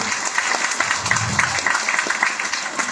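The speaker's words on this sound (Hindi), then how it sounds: "मैं चाहूंगी कि एक बार हमारे सत्येंद्र सर के लिए जोरदार तालियां हो जाए, जोरदार।" An audience applauds a speaker at an IMC network marketing business meeting, dense close clapping with sharp individual claps, loud and continuous throughout.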